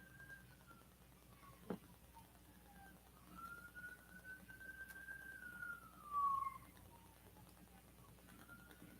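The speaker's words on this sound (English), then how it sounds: "I have all different kinds of sirens going off out there." A distant siren wails faintly outside, its pitch rising and falling in a long sweep over quiet background hum, with a brief knock near the start.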